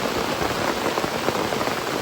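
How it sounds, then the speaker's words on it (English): Heavy rain pours down steadily during a windy storm at a van campsite, a dense hiss of drops pattering on a surface nearby, with no voices. "It is raining very hard"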